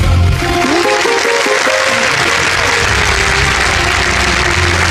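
Studio audience applause for a contestant on a televised quiz show, a loud dense clatter of clapping that runs throughout, with musical tones and low rumble mixed in beneath it.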